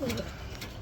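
Male racing pigeon giving a brief, soft low coo close by, quiet against faint background noise.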